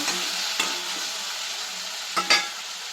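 Sour native tomatoes cooking in a covered pan give a soft, steady sizzle, with a few faint clinks or stirring touches near the end.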